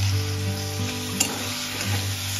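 Boiled potato filling with peanuts, soy sauce and tomato sauce stirred in a frying pan over steady sizzling, with a faint scrape of the spoon partway through.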